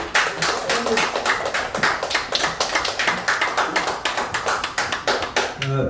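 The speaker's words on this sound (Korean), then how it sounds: "큰 박수." A group in a room gives a round of applause, a steady run of rapid hand claps lasting several seconds at moderate volume and fading near the end.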